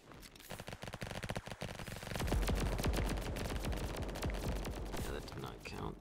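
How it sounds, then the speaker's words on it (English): Fireworks going off in the fighting area of a Roblox game, a rapid, dense crackle of loud bangs that builds into a sustained popping barrage with fast repeated bursts. "So, there's a firework right there."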